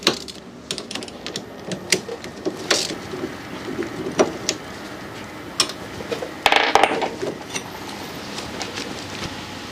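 Clicking and clattering of a 10mm socket wrench with a short extension loosening brake caliper bolts on a Tao Tao ATV, irregular ratchet ticks and small metallic knocks, close and moderately loud, with no talk.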